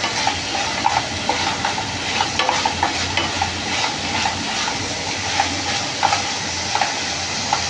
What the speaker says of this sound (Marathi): छान परतून घ्यायची मुगाची डाळ